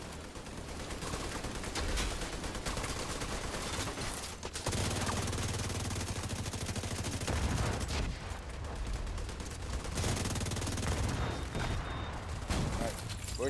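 Gunfire in The Division 2 during a Roosevelt legendary mission: dense, continuous rapid bursts of automatic fire with sharp reports, loud and sustained throughout, briefly dropping out once before resuming, with no talk.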